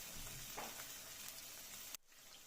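Chopped onions fry in hot oil in a pan on a home stove for a Karnataka village-style mutton curry, giving a dense, steady sizzle that cuts off abruptly near the end.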